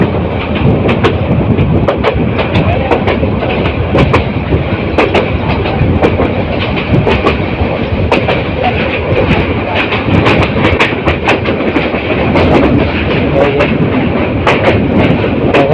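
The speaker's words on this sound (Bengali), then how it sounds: "অপরূপ সুন্দর রেললাইনের পাশে ট্রেন এই জঙ্গলের ভিতর দিয়ে যাচ্ছে।" The Bolaka Commuter train runs through forest on the Mymensingh to Dhaka line, with loud, steady rumble and rapid, repeated clickety-clack of wheels over rail joints throughout.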